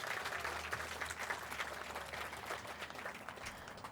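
A crowd applauding outdoors at a ribbon cutting ceremony for the Bayshore Boardwalk, dense continuous clapping throughout at moderate distance.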